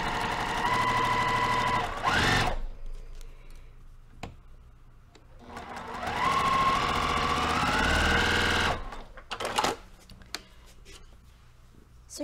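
Domestic sewing machine stitching quilt block pieces, running in two loud sustained bursts of a couple of seconds each with a slightly uneven, rough mechanical note, separated by quieter handling sounds and short clicks.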